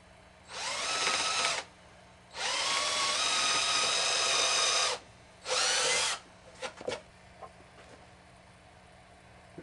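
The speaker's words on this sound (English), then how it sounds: "first we're going to drill this hole here" A power drill bores a hole in plywood in three sustained whining bursts separated by short pauses, close and loud, followed by a few light clicks and handling sounds.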